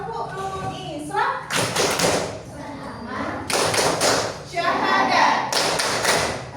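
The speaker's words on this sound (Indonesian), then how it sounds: "Kita mulai dengan tepuk rukun Islam." Children chant in unison with bursts of rhythmic group clapping and thumping, loud and close, recited as a call-and-response Islamic clapping chant about the pillars of Islam in a classroom game lesson.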